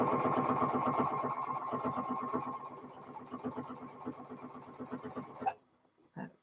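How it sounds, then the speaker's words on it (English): A sewing machine runs a quarter-inch seam along the fourth side of a fabric coaster, a rapid rhythmic needle chatter that slows and softens before stopping, followed by a couple of faint knocks. "Sewing a 1/4 inch. That's the 3rd side, and here we go down the 4th side."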